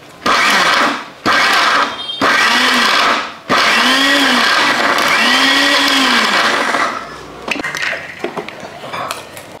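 Mixer grinder blitzing gongura pickle with fenugreek powder in short loud pulses, the motor whining up and cutting off several times before a longer run, then quieter clinks as it stops.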